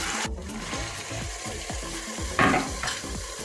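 Meat and carrots fry in a pan while being stirred, a continuous sizzle broken by repeated scraping strokes of a utensil and one brief louder hiss near the end, close and fairly quiet with no voices.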